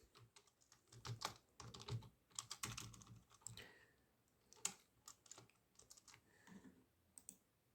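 Rapid, uneven typing on a computer keyboard while entering text into a spreadsheet, with bursts of close, crisp key clicks separated by short pauses and no talking.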